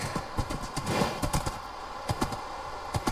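Steady hoof clip-clops of a horse walking at an even pace in Minecraft, clear and close, with no talking.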